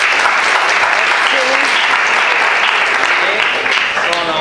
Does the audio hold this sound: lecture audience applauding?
yes